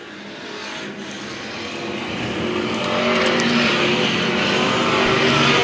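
A stock race car's engine roars on a dirt oval at an evening race meeting, a loud, sustained mechanical drone that builds steadily in volume as the car runs hard around the track.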